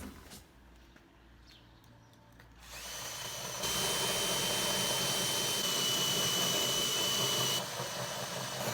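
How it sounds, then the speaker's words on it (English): A power drill whines steadily and loudly, starting after a quieter stretch and grinding continuously as it drills a 50mm hole through boat-hull fiberglass close by. "I'll basically use that as the pilot hole from the other side to drill the 50mm hole."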